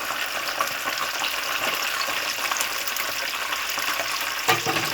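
A whole fish fries in hot oil in a pan, giving a dense, steady sizzle and crackle with small pops, close and loud, with no talk.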